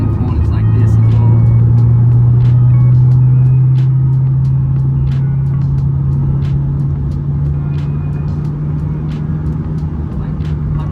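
A Subaru WRX VB with upgraded sway bars cruises at speed on a highway through long corners, its steady engine and road drone loud and continuous, with light ticking and clicks from inside the cabin.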